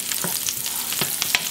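Butter melting into olive oil in a hot pan, giving a bright, steady, close-up sizzle with faint crackles throughout and no voices.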